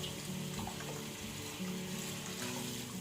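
Two or three tumblers of water pour into a cooking pot of Tamil pathiya kuzhambu curry, made for a new mother, as a continuous, even splashing rush.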